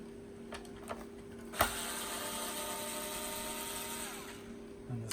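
Screws are worked loose from the motor cover of a Hoover Junior U1012 vacuum cleaner, with a few faint clicks and a sharp tap, then a steady quiet mechanical whir.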